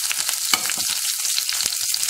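Mustard seeds, urad dal and curry leaves fry in hot oil in a pan, a steady crackling sizzle with sharp pops of bursting seeds, close and alone.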